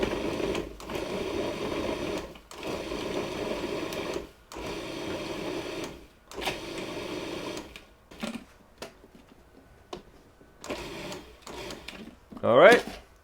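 A food processor pulses ingredients for a baked whiskey apple pudding. There are several short, buzzing motor bursts with brief silent gaps between them, then quieter clattering and a final sharp rattle near the end.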